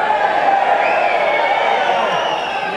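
Crowd at a boxing match cheers and applauds after a right-hand punch, a dense, loud roar that stays steady throughout, mixed with whoops.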